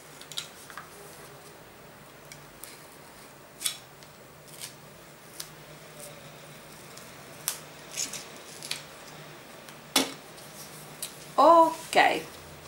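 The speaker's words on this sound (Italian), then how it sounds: "ritaglio l'eccesso col tagliabalza o con le forbici" Scattered snips and crisp cuts of scissors through paper, irregular and fairly close, with faint rustling between them.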